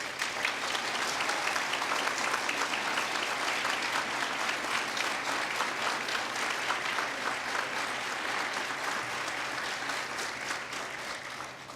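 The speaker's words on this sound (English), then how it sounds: "please give our new doctoral graduates a nice round of applause" Guests at a university doctoral commencement ceremony give the new graduates a long round of applause, dense steady clapping from a big hall audience that slowly tapers off near the end.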